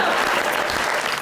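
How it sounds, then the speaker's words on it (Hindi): A short, dense burst of audience applause: many hands clapping at once, loud and close, filling the whole moment without a break. "है जी, तालियां ली"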